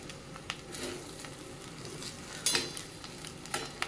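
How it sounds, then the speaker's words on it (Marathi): Paneer fried rice being stirred and tossed in a hot pan, a steady soft sizzle under light scraping and clinks of a spoon against the metal, close and continuous without talk. "आता चांगलं आपण मिक्स करून घेऊया राईस हळूवारपणे"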